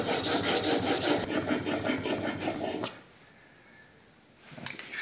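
A hand plane blade is rubbed back and forth on abrasive grit, giving a rhythmic rasping scrape of steel on grit for about three seconds, then a quiet pause before the strokes start again.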